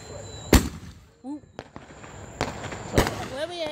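July 4th fireworks explode with two sharp, loud bangs a couple of seconds apart and smaller crackles between them. A short whistling rise is heard, and voices talk faintly in the background.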